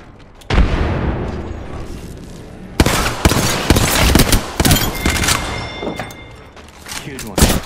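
A grenade blast and bursts of gunfire from the Apex Legends video game: a sharp thump early on, then dense, loud volleys of shots and booms, with in-game speech mixed among the combat.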